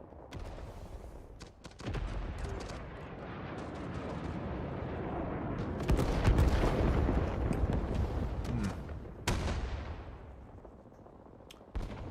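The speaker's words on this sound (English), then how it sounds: "Oh my goodness, that was a rifle grenade." In the Vietnam War shooter Rising Storm 2: Vietnam, a rifle grenade explodes amid rolling gunfire, with sharp heavy blasts near 2, 6 and 9.5 seconds over a dense, rumbling battle din.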